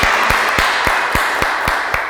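Slow, evenly spaced claps ring out one by one at a talk concert held during a 2021 job fair for young scientists and engineers, sharp and fairly close, with no voices over them.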